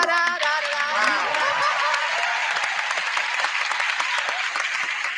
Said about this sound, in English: if you will just do a little polite applause while I welcome her properly